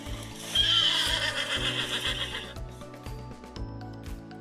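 A horse lets out a loud, shrill whinny that trails off over a couple of seconds, set against a bouncy, rhythmic music track.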